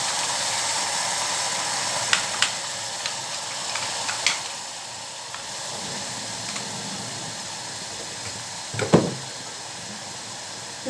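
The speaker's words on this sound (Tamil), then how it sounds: "இது கொஞ்ச நேரம் வதங்கட்டும்." A ground paste of shallots, green chili and coriander leaves sautés in a pan with a soft, continuous sizzle, broken by a few faint clicks and scrapes of stirring.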